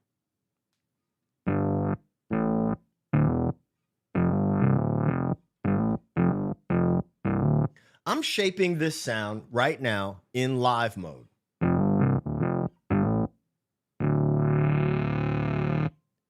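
An MXR Bass Synth pedal set for a vocal-like envelope plays a distorted bass synth in short repeated plucked notes, then one long sustained tone; someone talks briefly in the middle.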